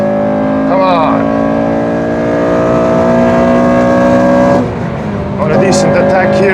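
Honda K20 VTEC engine with a failing condition, heard from inside the car on the Nordschleife as a loud, steady high-revving drone that shifts pitch abruptly near the end, with someone talking over it.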